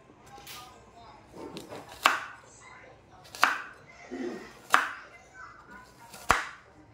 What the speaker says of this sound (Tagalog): Hiwain natin ang maliliit.